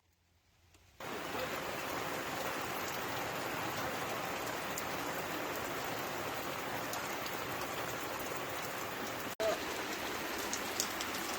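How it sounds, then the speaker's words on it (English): Heavy rain pours down at a campsite, starting abruptly after a brief quiet moment and then holding as a dense, steady hiss of drops on surfaces, near and loud, with one short bump near the end and no talk. "it started to rain, and boy did it rain for the majority of the evening"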